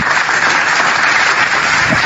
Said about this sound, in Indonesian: tepuk tangan untuk abang